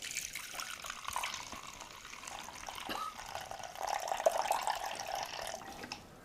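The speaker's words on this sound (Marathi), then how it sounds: "ह्याच्यात हे पाणी आपल्याला टाकायचंय आहे" Drinking water pours steadily into a kitchen container for a homemade dish-cleaning liquid, a soft continuous trickle and splash that grows slightly fuller toward the end, heard faintly and alone without talk.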